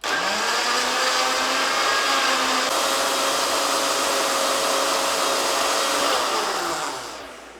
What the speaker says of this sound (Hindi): और इसको हम अब ग्राइंड करेंगे।